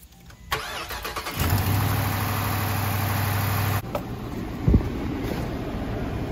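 A 2018 Dodge Charger cranks and fires on a cold start, the starter whirring briefly before the engine catches with a loud rise, then drops into a steady idle with a faint whine above it.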